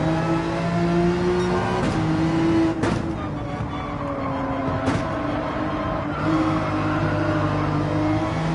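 Race car engine droning steadily in Gran Turismo 7 on the Dragon's Trail circuit, with sustained revs shifting in pitch under a constant loud roar and a few brief sharp transients, no talking.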